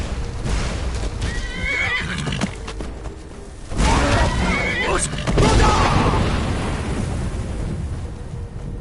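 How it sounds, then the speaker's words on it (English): Horse neighing in the Skyrim video game, a whinny rising over battle noise with clip-clop and booming effects, loud and close amid a voice. "Don't hit my horse."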